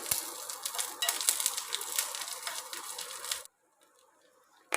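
Close-up sizzling of garlic frying in hot oil, crackling steadily for a few seconds before cutting off abruptly into near silence.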